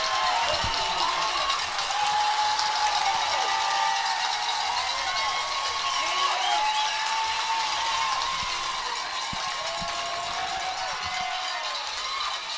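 Football stadium crowd at a Conway versus Bryant game roaring steadily during a long interception return, a dense sustained cheer with whistles and shouts, distant and continuous throughout.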